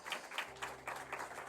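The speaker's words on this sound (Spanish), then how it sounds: "Demos un aplauso de alabanza al Señor." Congregation clapping in praise during a Spanish-language church service, a steady patter of many hands at moderate distance with a low hum underneath, no voices over it.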